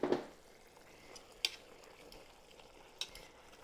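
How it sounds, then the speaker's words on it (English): Soft simmered mirliton chayote squash mashed in a pot, a few faint wet squishes and a couple of sharp utensil taps against the pan, quiet and sparse. "We're going to do a little mashing."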